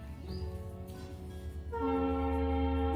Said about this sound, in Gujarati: જો ટ્રેન આવી ગઈ